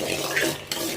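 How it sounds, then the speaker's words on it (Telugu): Peanuts being stirred in a hot pan, a close, quiet scraping of a utensil against metal over a soft frying hiss. "వంకాయ కూరకి పల్లీలు వేయించుకోవాలి."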